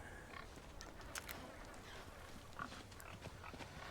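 Pigs grunt and oink softly in the farm area of the VR game Resident Evil 4 Remake, faint scattered snorts over a low, steady background noise.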